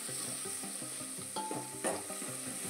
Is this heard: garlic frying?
yes